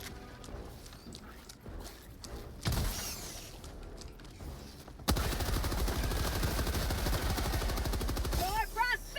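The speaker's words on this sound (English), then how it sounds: "I love the medium armor penetration of the machine gun" Sustained machine gun fire in Helldivers 2 hammers in a rapid, steady stream for several seconds after brief bursts and mechanical clatter, loud and close, with a voice heard near the end.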